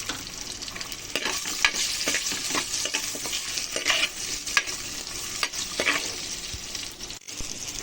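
Onions sautéing in a pan for mutton kulambu, a continuous hiss broken by frequent scraping stirs from a spoon, with no voices.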